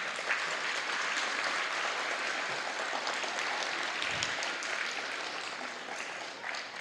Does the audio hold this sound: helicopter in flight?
no